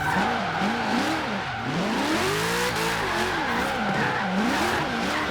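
A 1992 Ford Falcon GT drifting in Forza Horizon 3 roars loudly and continuously, its engine note rising and falling as the revs swing, with tires squealing throughout.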